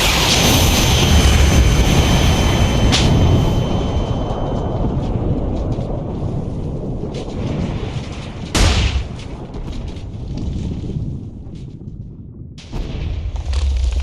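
A loud explosion in a Female Titan update video game opens with a long rumbling roar that slowly fades. A sharp second blast cracks through midway, and the low rumble settles before picking up again.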